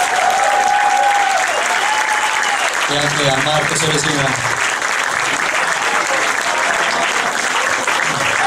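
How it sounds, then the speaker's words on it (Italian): An audience at a live concert gives sustained applause for the backing singers, a steady wash of clapping that runs throughout while someone speaks over it. "un applauso alle nostre coriste che sono veramente brave"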